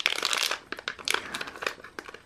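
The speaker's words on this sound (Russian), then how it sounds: "открываете такой вот пакетик, достаете" A plastic packet of gummy bear candies crinkles close up, a series of sharp crackling bursts as the bag is opened and handled, with no talk.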